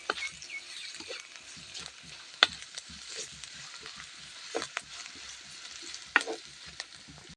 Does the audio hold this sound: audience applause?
no